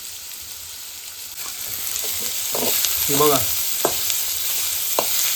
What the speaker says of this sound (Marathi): तेल टाकलंय आणि त्यात कांदा टाकलाय